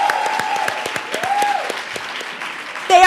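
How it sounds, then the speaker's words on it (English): Applause at a women's town hall and reception: scattered, separate claps picking up across a room, with a faint voice or tone running underneath and a louder burst at the end. "Let's give a huge round of applause."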